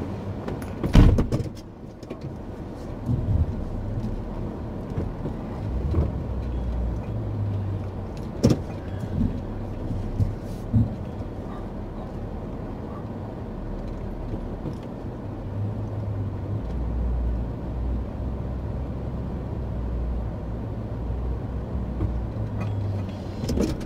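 A camper van pulls away on a snowy May day in Arizona, its engine rumbling steadily at close range for the whole stretch, with a few door-like knocks and rattles early on and no talking.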